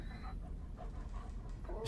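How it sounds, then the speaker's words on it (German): A dog in the Until Dawn video game pants and whimpers in short, faint bursts over a low background hum. "Was ist denn mit dem Hund los?"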